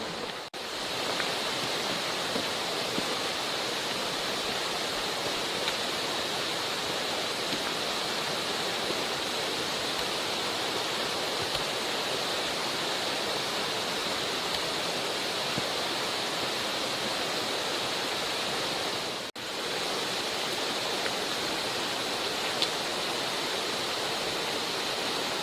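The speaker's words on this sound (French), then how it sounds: "Donc, ça y est, on arrive à la grande cascade." The large waterfall at the Cirque de Saint-Même roars as a constant, even rush of falling water, a broad steady wash heard from nearby with no speech and only one brief dip near the end.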